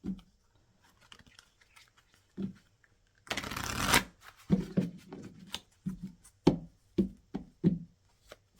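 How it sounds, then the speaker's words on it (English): Tarot cards being shuffled close up, quiet riffles and taps in short bursts with one longer rustling shuffle in the middle, alone without talk. "Let's pull some more cards here."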